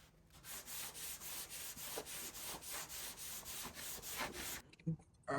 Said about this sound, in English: So I'm gonna go ahead and start sanding this.